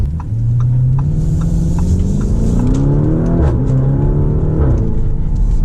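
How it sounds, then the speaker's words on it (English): A powerful twin-turbo V8 in a Lamborghini Urus SUV roars steadily as it accelerates hard uphill, the pitch climbing gradually under load, loud and close from inside the cabin. "Climb up the hill here, plenty of power with a twin turbo V8."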